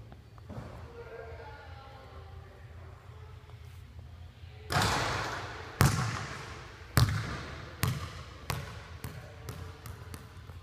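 Basketball bouncing on a court during shooting practice, a series of sharp thuds that start sparse and grow quicker toward the end, over faint background hum and low murmuring.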